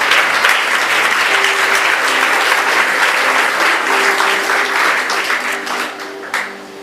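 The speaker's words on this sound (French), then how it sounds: "Acclamons très fort la parole du Seigneur." A church congregation breaks into loud, sustained applause during a sermon, a dense wash of clapping from many hands that fades slightly near the end.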